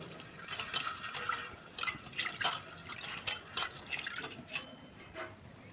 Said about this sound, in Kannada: ಅದನ್ನು ಈಗ ನೀರು ಹಾಕಿ ನೀಟಾಗಿ ತೊಳಿರಿ.